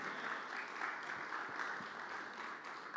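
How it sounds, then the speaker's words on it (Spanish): Steady, moderately distant applause from a large audience, a continuous wash of clapping with no break. "El aplauso ese más fuerte porque es para el Señor"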